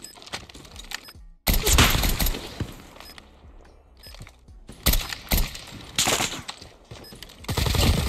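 Bursts of automatic gunfire from a Call of Duty Mobile search-and-destroy match, loud rapid volleys separated by short pauses, with game mechanism clicks between them.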